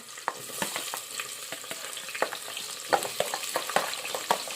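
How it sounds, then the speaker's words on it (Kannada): Onion, green chilli and potato fry in oil with cumin and mustard seeds, giving a soft, steady sizzle broken by frequent sharp clicks and scrapes of a spoon stirring the pan, close by, without talk. "ಇವಾಗ ನಾನು ಫ್ರೈ ಮಾಡ್ಕೊತೀನಿ ರೀ"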